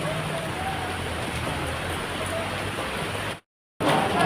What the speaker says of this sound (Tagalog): Yan guys, malakas ang ulan.